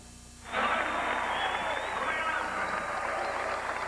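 A basketball arena crowd cheers and applauds for a singer after she sings the national anthem at a 1992 Knicks at Washington Bullets game. The roar swells in suddenly and holds steady and loud as a broad, continuous wash of noise.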